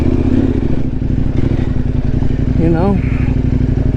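A KTM 1090R motorcycle engine drones loud and steady while riding off-road with a full tank, a close continuous rumble beneath someone speaking briefly.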